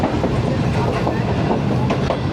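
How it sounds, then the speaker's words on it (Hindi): The Awam Express rolls into Tando Adam Junction with a loud, close, continuous rumble and rhythmic clickety-clack of wheels over rail joints, heard from the coach door. "टंडो आदम जंक्शन पहुंच रही है ट्रेन"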